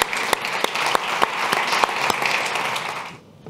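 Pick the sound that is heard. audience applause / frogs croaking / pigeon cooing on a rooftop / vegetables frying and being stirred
audience applause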